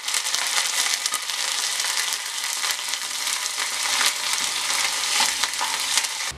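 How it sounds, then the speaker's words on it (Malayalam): Mustard seeds, ginger, chillies and curry leaves frying in hot oil for a pachadi tempering, a loud, steady crackling sizzle with sharp pops throughout. "കടുക് വറുത്ത് നമുക്ക് പച്ചടിയിലേക്ക് ഒഴിച്ചു കൊടുക്കാം."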